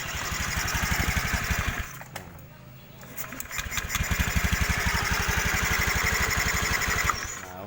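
A Honda Beat scooter with an ACG starter motor fires up and settles into a steady, fairly close idle. The engine falters briefly partway through, then picks back up and keeps running evenly.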